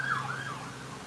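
Emergency siren wailing outside, a single rising and falling tone that holds steady and fairly loud for about a second, with no talk over it.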